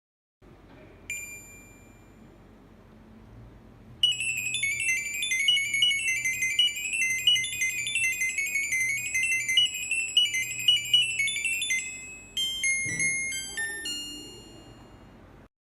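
An inverter air conditioner in diagnosis mode plays an error-code melody for a CH10 indoor unit fan operation fault. The electronic beeps and tones start with a single ping, then run as a rapid series for several seconds and end in a few stepped notes.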